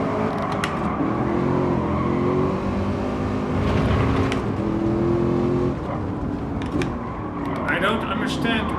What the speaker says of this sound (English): I don't understand why American car makers find it fun to make say these low revving engines